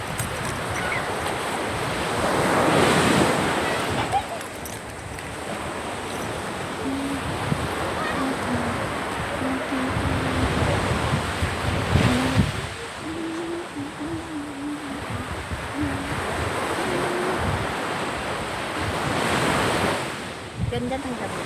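Sea waves breaking on a shore at night during a stormy spell, with steady wind rushing over the microphone; the surf swells in broad, loud surges every few seconds beneath a constant windy roar, with no talking.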